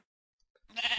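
A single Minecraft sheep bleat starts abruptly after near silence, loud and close, cut off at the end.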